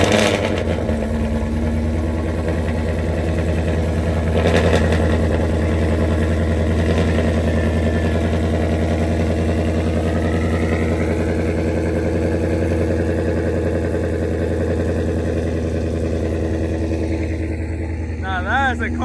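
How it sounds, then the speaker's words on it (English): A car engine, apparently a Mustang GT, idles loud and close with a steady rumble, then swells as it revs, while people talk over it. "Nah, that's a car, my nigga."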